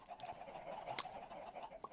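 Chickens in a pen in Minecraft give faint short clucking sounds, quiet and brief, with no talk.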